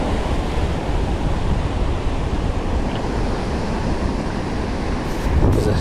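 Surf on a beach at night: a loud, continuous wash of breaking waves with a constant rushing roar and slight wind buffeting, with no pauses.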